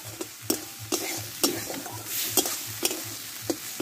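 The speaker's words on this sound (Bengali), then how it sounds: "এবার মশলাটা একসঙ্গে ভালোভাবে কষে নেব" A spice paste with tomato is sautéed for a vegetarian papaya and potato curry, a spoon scraping the pan in a steady rhythm of about eight strokes over a constant sizzle, with no talking.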